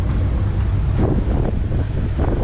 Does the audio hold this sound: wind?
yes